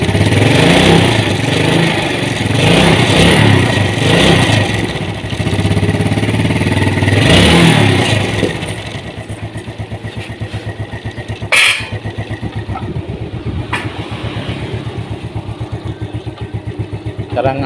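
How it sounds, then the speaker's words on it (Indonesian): A motorcycle engine runs with no backup battery, powered through the regulator-rectifier, its steady mid-pitched drone loud for the first eight seconds before dropping to a quieter idle with a brief sharp click near the middle. "harusnya sepeda motor nyala loh tanpa aki cadangan ini"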